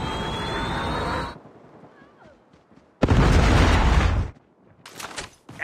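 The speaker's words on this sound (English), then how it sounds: "Predator missile inbound." Heavy Predator missile strike explosions in Call of Duty Mobile on the Nuketown map during a team deathmatch: two loud, roaring broadband blasts with quieter rumble between them and a third burst starting at the end.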